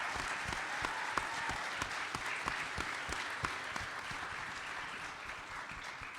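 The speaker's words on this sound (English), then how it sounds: "So if you guys could give a round of applause for those guys." Audience at a CPAC 2021 panel breaks into steady applause, many hands clapping in a dense, even patter with a few sharper claps standing out, sustained at moderate loudness throughout.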